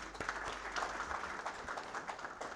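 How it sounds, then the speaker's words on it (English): A conference audience at a maritime and logistics conclave gives a short round of applause, with fairly soft and diffuse clapping from many hands in a large room. "a round of applause for you"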